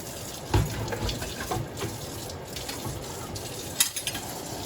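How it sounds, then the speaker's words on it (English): Water runs and splashes into a pot nearby, a steady trickling pour with a few louder clanks and splashes along the way. "add some more water to it, the pot"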